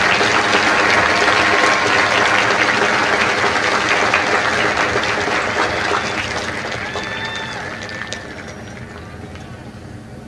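A crowd at a Marine Corps graduation ceremony for India Company at MCRD San Diego claps in sustained, dense applause that slowly fades, with a few cheers and whistles toward the end.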